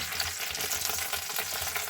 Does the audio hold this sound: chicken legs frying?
yes